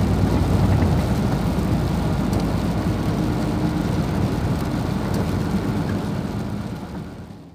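Heavy rain pours down on a moving vehicle on the Belém–Brasília highway, a dense, loud, continuous wash of drumming and road rumble that slowly fades toward the end.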